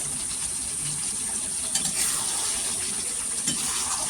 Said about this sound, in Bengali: একটু নাড়ুন